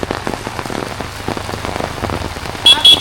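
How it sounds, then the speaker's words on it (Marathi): Steady rain that has kept falling since the night before patters on surfaces in a village in Konkan, dense and close throughout, with a brief higher chirp near the end. "काल रात्रीपासून पावसाची सुरुवात झाली आहे. अजून काय पाऊस थांबलेला नाही."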